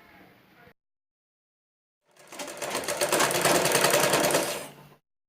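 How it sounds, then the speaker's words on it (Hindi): A sewing machine stitches a nightie in one continuous, close, loud run of rapid needle clatter lasting a few seconds, after a brief murmur and a silent gap. "अभी इसको स्टिचिंग कर कर दिखाऊंगी"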